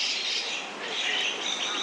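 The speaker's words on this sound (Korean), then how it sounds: "새들이 울부짖어요." Birds call and squawk outdoors in a bamboo grove, a dense, continuous chorus of high-pitched cries heard up close and fairly loud, with no talking over it.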